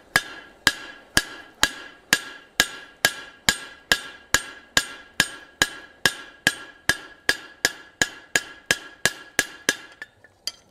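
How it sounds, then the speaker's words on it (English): A hammer strikes a rivet held on the horn of an anvil while forging a hook tail ladle: about two dozen sharp metallic rings in a steady rhythm, each decaying briefly, close and loud, tapering off at the end. "I'm gonna hold this on the horn of the anvil again, and we're gonna rivet this down"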